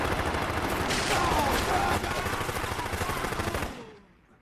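Gunfire in a film shootout inside a house, a dense rapid fusillade of overlapping loud shots under a voice, ending abruptly into quiet.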